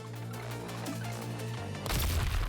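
Video game explosions burst out in a loud, dense cluster of crashing booms near the end, over a sustained low rumbling game soundscape.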